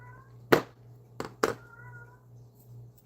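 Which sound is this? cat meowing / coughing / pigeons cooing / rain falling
cat meowing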